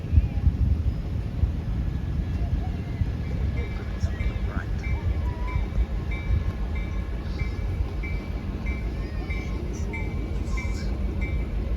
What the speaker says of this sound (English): Hold on, train coming.